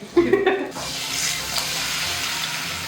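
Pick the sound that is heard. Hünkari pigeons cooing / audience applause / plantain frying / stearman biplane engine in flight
plantain frying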